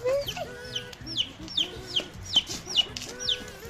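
Repeated high, rising peeps from chicks come every few tenths of a second, with a mother hen's soft clucking and rustling underneath as she leads them, fairly close.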